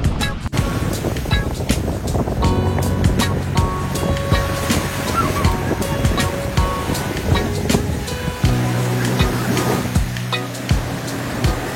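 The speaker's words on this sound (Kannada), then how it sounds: "ಬಂಗಾಳ ಕೊಲ್ಲಿಯ ಸಮುದ್ರ." Sea waves wash steadily onto a beach on the Bay of Bengal at Pondicherry, a continuous broadband roar with rolling surges and some wind noise on the microphone, with no talking.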